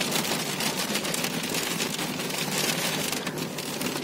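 Heavy rain pours steadily in Udaipur, a dense, continuous hiss of drops drumming on surfaces at close range, loud and unbroken throughout with no voices.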